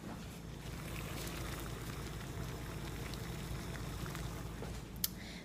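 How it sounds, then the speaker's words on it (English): Salted water at a rapid boil for pasta, a steady dense bubbling and rolling hiss close by, continuous throughout with one brief sharp click near the end. "you're going to let it go to a rapid boil"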